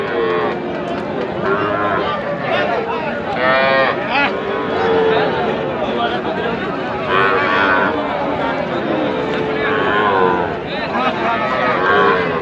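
Heifer calves at a busy cattle market moo repeatedly and loudly, their calls rising over a background of voices and crowd noise.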